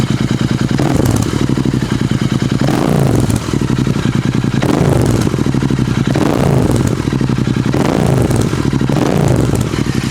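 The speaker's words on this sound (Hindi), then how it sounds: "इसकी असली साउंड मैं आपको सुनाता हूँ कि SSP एग्जॉस्ट क्या होता है। तो अभी 3000 तक इसको मैं लेके जाने वाला हूँ।" A Royal Enfield GT 650 with an SSP exhaust and BMC air filter revs up to about 3000 RPM in repeated loud, bassy swells over a thumping, close idle, each rise falling back before the next.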